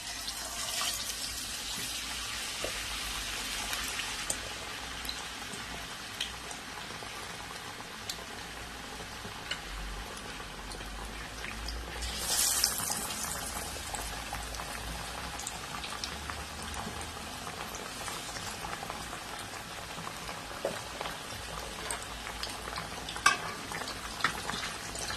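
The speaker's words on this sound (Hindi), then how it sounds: "फिश डाल दिया। अब हम इसको फ्राई कर रहे हैं।" Fish pieces fry in hot oil in a pan, giving a continuous close crackle and sizzle with scattered louder pops and spits throughout.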